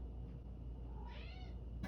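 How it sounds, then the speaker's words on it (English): A house cat meows once, a faint, short call in a quiet indoor room, with a slight bump of noise at the very end. "that's my cat"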